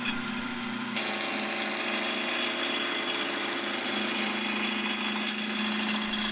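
A wood lathe runs with a steady, close motor hum while a gouge rubs and cuts into a square blank, making a continuous rough scraping that holds evenly throughout without talk.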